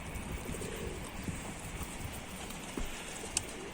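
Soft pigeon cooing drifts through a rustling, noisy background in a pigeon coop, with a brief sharp click near the end.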